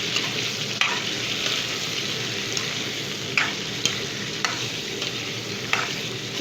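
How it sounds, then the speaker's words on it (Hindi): Chicken pieces sizzle and fry steadily in hot oil in a karahi, with occasional sharp clinks and scrapes of a spoon stirring the pan, no voices. "तेल गरम हो चुका है, उसी में मैं चिकन डाल रही हूँ।"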